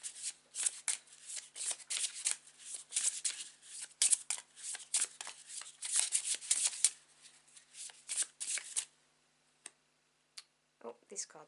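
Tarot cards are shuffled close by in a rapid, irregular run of crisp riffling clicks and flutters lasting about nine seconds, then stop, and brief speech follows.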